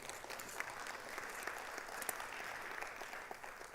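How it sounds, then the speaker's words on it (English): A conference audience at a Black Britain and Beyond session on Black masculinity breaks into sustained applause, a soft, distant patter of many hands with a few sharper individual claps standing out. "So can we give them another round of applause"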